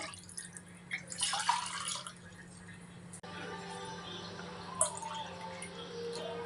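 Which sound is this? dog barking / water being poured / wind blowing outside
water being poured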